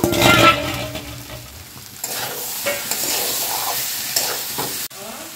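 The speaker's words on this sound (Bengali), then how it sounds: "ভেজে রাখা সয়াবিনটা এখন দিয়ে দিব, দিয়ে একটু নাড়াচাড়া করে নিব।" Fried soybean chunks with chili and ginger paste stirred in a hot pan, a loud continuous sizzle broken by scraping spatula strokes, close and with no voices.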